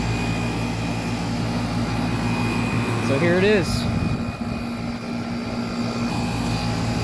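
A 1995 Tempstar central air conditioner with a Copeland reciprocating compressor hums steadily close by, a constant tonal drone with a fan whoosh, while someone speaks briefly over it.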